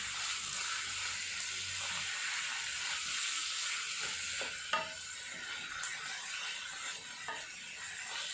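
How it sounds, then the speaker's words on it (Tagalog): Ground pork frying in a pan with onion and garlic for spaghetti sauce, a steady close sizzle and hiss with occasional stirring scrapes and small clinks throughout. "Next natin ilalagay ay ang ating ground pork."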